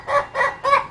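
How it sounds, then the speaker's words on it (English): An Ayam Ketawa laughing rooster crows in three quick, close, loud bursts, giving a rapid cackling, laugh-like rhythm with nothing else heard. "thanks to laughing rooster breed that has already created some unique sound"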